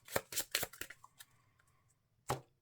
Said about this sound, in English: I do have to shuffle this.